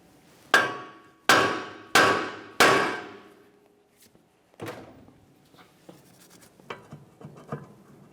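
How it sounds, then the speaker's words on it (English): Four loud metallic hammer strikes on a steel steering knuckle of a 1994-1997 Honda Accord ring out in quick succession, followed by quieter clinks and taps of handling metal parts. "We'll give the knuckle a couple taps with a hammer to break it free."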